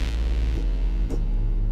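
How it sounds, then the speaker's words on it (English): A steady, pure sine wave tone from the Xfer Records Serum synthesizer holds low and even, with a faint hum beneath and a couple of soft blips. "it's pure sine wave"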